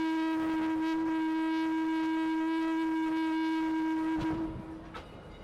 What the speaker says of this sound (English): It's used as a helper engine behind the train to help push it.